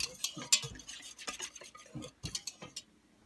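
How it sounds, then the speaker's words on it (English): A whisk stirs yogurt ingredients in the inner pot of an Instant Pot, giving a run of close scraping, clinking strokes in an irregular rhythm that fades toward the end, with no talking. "I am going to use a whisk and I'm going to stir it up well."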